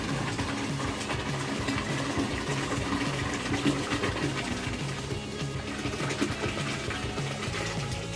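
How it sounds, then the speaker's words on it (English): A Grainfather all-in-one brewing system's pump runs steadily during a Belgian Dubbel brew day, giving a continuous mechanical hum and rattling whir at close range with no talking. "Right, pump's working."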